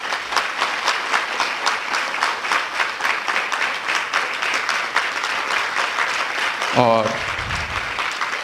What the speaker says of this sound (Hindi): तो इन बहनों के लिए सभी एक बार ताली बजाएंगे।